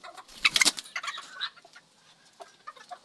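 Pet hens cluck in a short burst that is loud and close at first, then trails off into scattered softer clucks.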